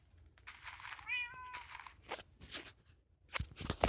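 A cat meows in the Minecraft video game, a short, clear in-game mew with a falling pitch, amid soft crunchy block and footstep sounds.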